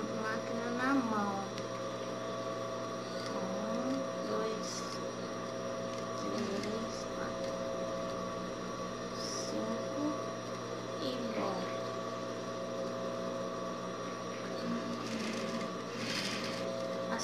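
A sewing machine worked by hand, stitching the seam of a built-in pocket, gives a steady, low mechanical whir that runs throughout, with a person talking over it.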